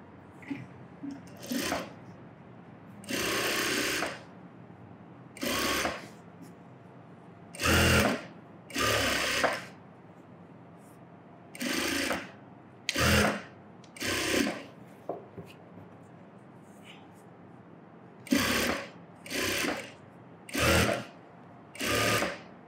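A sewing machine stitches a garment side seam after the sleeves were joined, during a tailoring lesson, running in about ten separate bursts of a second or two each, with quiet pauses between them.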